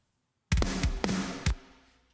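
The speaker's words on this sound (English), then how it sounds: "and then our hyper compressed sound, which volume adjusted is this." Three hard-hitting hits from a heavily compressed rock drum kit, each punchy kick-and-snare stroke ringing out with a bright, sustained wash, the last one fading away alone.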